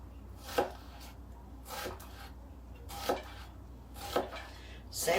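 Vegetables, including onion, being chopped with a knife on a board: five separate thuds spaced about a second apart, close but fairly quiet, with faint room tone between cuts.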